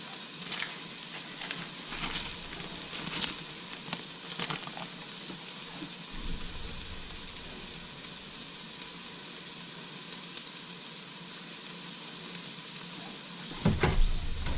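Onion slices frying with a vegetable mix in a stir fry, a steady close crackling sizzle with occasional louder pops and a clatter at the end.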